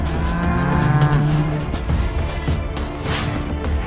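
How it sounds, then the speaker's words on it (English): Cartoon cows moo loudly and close up, a few long drawn-out lowing calls that overlap one another, followed by rustling and clattering. "cows have escaped from here"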